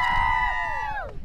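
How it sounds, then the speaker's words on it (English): The Drum and Inch under-10 camogie team of young girls gives a brief high-pitched shout together, voices sliding downward and fading within about a second. "Big cheer from Drum and Inch."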